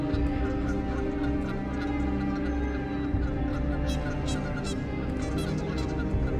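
A large flock of wild geese honks loudly and continuously, many overlapping calls forming a dense, busy chorus close at hand with no speech over it.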